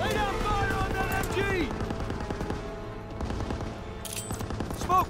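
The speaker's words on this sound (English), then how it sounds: "Lay down fire on that MG!" Dense gunfire from a Call of Duty WWII battle, bursts of machine-gun fire and scattered shots layered over constant combat noise, with shouted soldier voices in the chaotic mix throughout.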